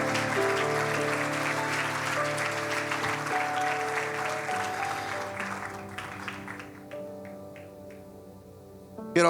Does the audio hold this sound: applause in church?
yes